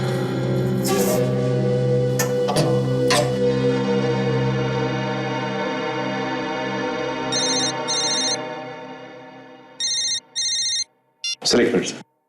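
A telephone rings in short repeated bursts of bright electronic tones near the end, following a stretch of loud music or background sound.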